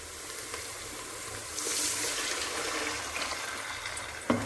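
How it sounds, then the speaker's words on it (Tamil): A liquid mixture poured into a pan of onions sauteed for fish curry: a hissing, sizzling rush that swells midway and then settles into steady frying, ending with a light clink. "இதில் வந்து நம்ம இந்த கரைசலை எடுத்து ஊற்றிக்கிறோம்"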